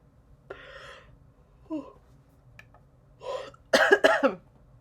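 A few short, harsh coughs close by, building from a light hack to a louder burst at the end, with small breaths between.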